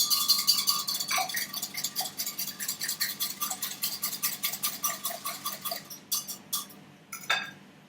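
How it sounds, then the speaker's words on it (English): A whisk beating vanilla extract into a milk and egg pudding mixture in a bowl, rapid rhythmic metallic clinking that runs steadily, then slows and stops near the end, close and clear. "give that a whisk"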